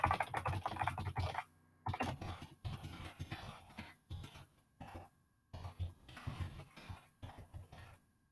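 Bursts of rapid tapping on a computer keyboard, broken by short pauses, with a brief cough-like sound mixed in and no talking.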